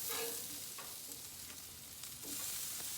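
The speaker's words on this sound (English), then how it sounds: "Burgers are looking pretty good. They got a good sear. I'm gonna give them a flip." Burgers sear on a grill with a soft, steady sizzle, and a few faint scrapes mark the patties being flipped. No one talks.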